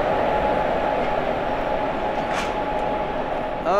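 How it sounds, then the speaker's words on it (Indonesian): A diesel train passes on an Indian railway with a steady, loud rumbling drone and a constant engine hum, sustained throughout with a faint squeal near the end. "tampaknya ini bukan kereta listrik ya. Tenaga diesel."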